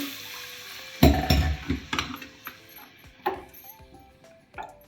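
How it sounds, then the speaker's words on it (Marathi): Water pours and splashes into a metal pot in a short burst, followed by smaller sloshes and light clinks, while rinsing mutton in a kitchen. "ह्या भांड्यात थोडंसं पाणी ओतते"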